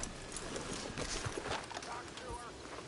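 Horse hooves clip-clop steadily in Red Dead Redemption 2, a continuous galloping patter heard under game ambience with a voice speaking over it.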